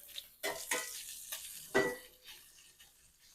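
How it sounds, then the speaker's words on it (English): Quiet sizzling of bacon in a pan, broken by a few louder scraping or stirring bursts, with no voices. "I can hear that the sizzle is slowing down a little bit."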